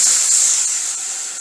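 Water poured into a hot kadai hisses and steams loudly and steadily, fading slightly over about a second and a half while cooking drumstick (sajna) greens.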